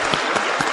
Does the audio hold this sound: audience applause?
yes